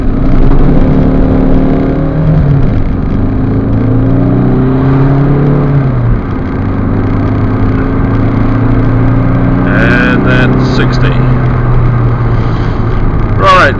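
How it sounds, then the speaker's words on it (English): A 2001 Renault Megane Scenic 1.9 diesel, front-wheel drive on wet roads, accelerates hard from a standstill, its engine note climbing and dropping through gear changes, loud and steady with a person talking over it. "See if we can do a 0 to 60 test."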